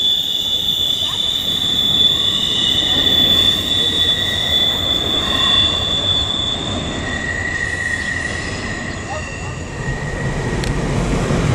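A train rolls past steadily, wheels screeching with a high, sustained metallic squeal over a constant rumble of railcars.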